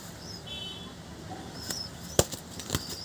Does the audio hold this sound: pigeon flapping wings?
yes